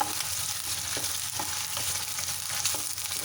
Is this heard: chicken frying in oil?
yes